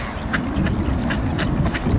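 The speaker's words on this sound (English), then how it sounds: "Look, coots going for bread." Coots squabble over bread on the water, with several short nasal calls and splashy pecking over a steady outdoor background, close by and fairly loud, with no talking.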